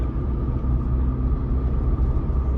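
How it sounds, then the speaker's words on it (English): A 2023 Jeep Wrangler Rubicon 4xe, a 2.0 turbo four-cylinder hybrid, driving along with a steady low engine and road rumble heard from inside the cabin, constant and fairly loud with no break. "So driving the Wrangler Rubicon 4xe"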